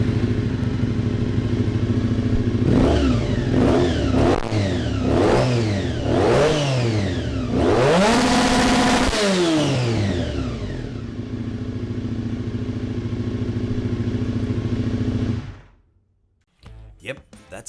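Kawasaki ZZR1100 Ninja ZX11 motorcycle engine revved repeatedly, loud rising and falling sweeps climbing to a sustained red-line scream, then settling to a steady idle before abruptly shutting off.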